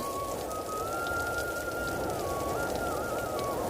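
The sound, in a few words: rain starting in cartoon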